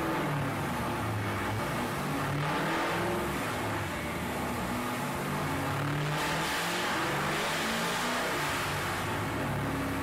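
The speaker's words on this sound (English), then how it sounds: "It's also the loudest car." A loud car engine revs hard on a dyno, a dense, roaring, continuous bellow with rising and falling surges that fills the whole stretch at close range.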